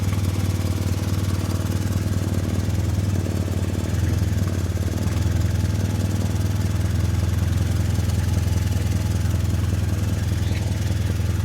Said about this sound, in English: Of course, mine has idling issues because I don't have an idle air control valve.